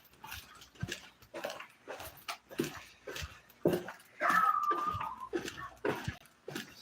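A dog heard outdoors at close range, with short whimpers and yips scattered through the clip and one longer whine in the middle.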